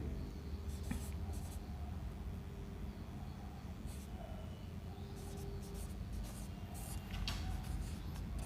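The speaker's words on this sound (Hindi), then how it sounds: "तो लिखेंगे" Marker or chalk writing on a board during a classroom history lecture, heard as soft scratchy strokes in short bursts over a steady room hum, fairly faint and close.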